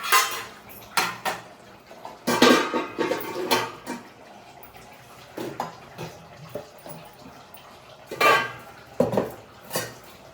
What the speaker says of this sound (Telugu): ఇంకా క్యారేజ్ కూడా సర్దేసుకుంటున్నా